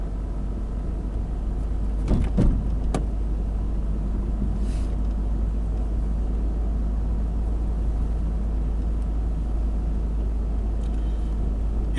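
A 1995 Nissan Primera P10 driving along a road near Krioneri-Tatoi, heard from inside as a steady low engine and road rumble throughout, with a few brief knocks early on and no talk.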